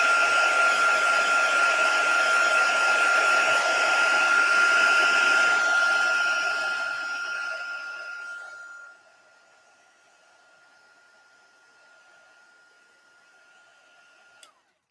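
A handheld dryer blows loudly and steadily over a craft project for about eight seconds, then winds down to a faint hum and ends with a small click.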